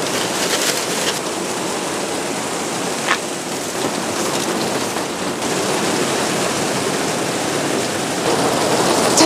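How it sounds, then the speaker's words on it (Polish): Heavy rain pours down outdoors in a loud, continuous, even roar that holds steady and swells slightly toward the end, with no voices. "Teraz to dopiero leje."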